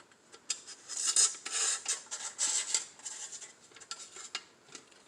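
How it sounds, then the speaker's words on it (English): A saw rasps back and forth through a wooden dowel rod being trimmed to fit a Dollar Tree metal vintage toy truck, a series of quick, close scraping strokes in uneven rhythm, with no talk. "And then I cut this to actually fit in there."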